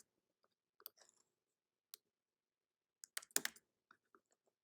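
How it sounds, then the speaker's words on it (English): Computer keyboard keys are pressed for copy and paste, a few sparse, quiet clicks followed by a brief cluster of sharper taps, with no talking. "I'm copy and pasting with my keyboard"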